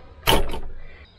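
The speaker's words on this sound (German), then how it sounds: "deswegen machen wir mal die Tür zu." A door swings shut with a single short thud and a brief rattle, close by at a campsite, fading into quiet room tone afterwards.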